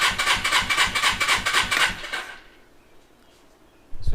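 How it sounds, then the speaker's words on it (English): A Suzuki GS450 motorcycle engine cranks on its electric starter at full throttle during a compression test, a loud rhythmic whirring chug for about two seconds that stops abruptly, followed by near silence. "We're going to full throttle it and hit the button until it stops climbing."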